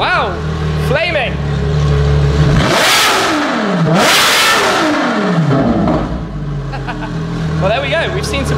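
A Ferrari LaFerrari with a straight pipe exhaust revs hard nearby, two deafening rising-and-falling blips in the middle between shorter revs, with people talking around it.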